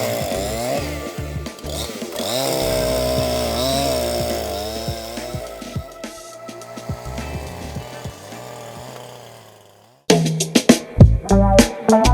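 A Husqvarna 353 gasoline chainsaw revs with a rising and falling engine whine, fades toward idle and near silence, then bursts back in with loud, sharp throttle blips.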